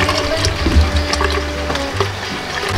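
Coconut milk poured into buko gulay, a young coconut vegetable dish, with a steady, close liquid splash and gurgle that runs without pause under light kitchen noise.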